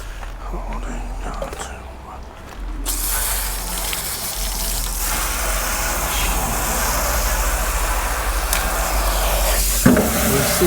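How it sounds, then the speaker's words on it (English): Water rushes over a blower wheel as it is rinsed outdoors, a steady broad hiss that starts abruptly and keeps going loud and close, with a brief knock near the end. "Rinse this thing out."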